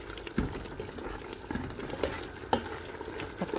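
Chicken masala with green coriander and green chillies being stirred in a pan, a few scraping strokes of the spoon over a soft steady sizzle, close and moderately loud with no talking.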